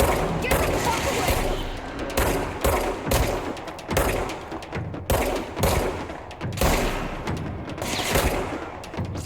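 Gunfire in the video game Control: repeated bursts of loud shots and rapid volleys that come in waves through the whole stretch, with a voice heard at times among the shooting.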